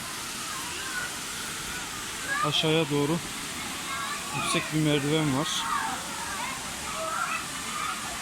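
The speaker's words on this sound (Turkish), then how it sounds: "bugün içi Sabun Çayı şelalesindeyiz" Steady broadband rush of the Sabun Çayı waterfall in Düziçi, Osmaniye, continuous throughout, with a voice talking over it in two bursts.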